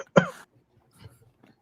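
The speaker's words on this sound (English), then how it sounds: "I don't know where else to cough." A single short cough, close and fairly loud. Faint murmurs and small noises follow in a quiet room.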